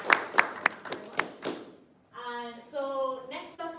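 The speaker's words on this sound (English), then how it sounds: "We give a round of applause." Scattered claps from a small audience at an agritech launch event, a brief patter of hand claps that thins out before a voice begins speaking.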